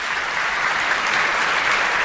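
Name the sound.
audience applause for pageant sponsors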